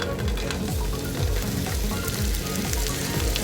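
Two slices of bread frying in a pan, a steady close sizzle over a rhythmic low repeating thump from the stove, no voices.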